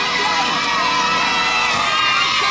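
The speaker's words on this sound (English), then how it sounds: "Let's have a big round of applause for our new star, Pinocchio!" A theatre audience cheers and shouts, with children's voices in a dense, continuous crowd roar that stays loud and steady throughout.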